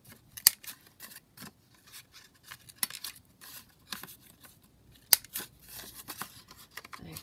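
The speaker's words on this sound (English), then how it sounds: "In fact, just before I glue it down, I'm just going to round the corners." Paper corners being rounded with a cutting tool while preparing a craft piece for gluing: a few sharp clipping snips stand out among soft rustling and handling of paper, close and fairly quiet.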